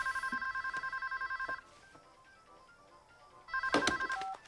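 A telephone rings in a rapid electronic trill, two bursts separated by a quiet gap, fairly near and clear, with a faint bump of movement in the pause.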